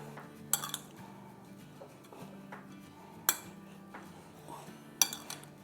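A spoon scrapes and clinks against a bowl while mixing boiled, shredded potato cutlet mixture with chopped greens, with a few sharp knocks against the rim over soft, steady stirring, close by.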